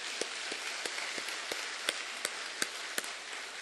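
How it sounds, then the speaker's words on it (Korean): Congregation applause during a church service, a soft continuous wash of clapping with a few louder individual claps standing out at regular intervals, moderately distant and without speech. "이 자리에 임재하신 성령님께 박수로 영광을 돌리십시오."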